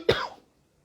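A single short, close cough, sharp at the start and fading quickly into silence.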